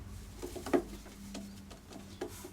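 A pigeon coos softly in a loft among other birds, giving a low, murmuring call with a few faint flutters and shuffles around it. The sound is quiet and close, and nobody is talking.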